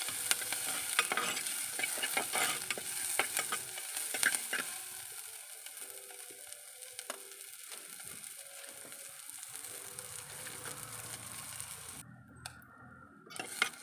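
Onions sautéing in a pan for a vegetable kurma with chickpeas: a continuous close sizzle with scraping and clicking spatula strokes throughout, fading slightly toward the end, with no talk.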